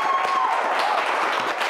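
Audience applause at a quiz show, a moderate wash of clapping and crowd noise with a faint voice or tone briefly audible underneath.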